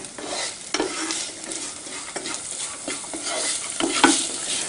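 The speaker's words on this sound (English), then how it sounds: "now you get this beautiful aroma of all the spices frying." Steady sizzling of cumin and other spices frying in hot oil for jeera rice, with repeated scraping clicks of a utensil stirring the pan.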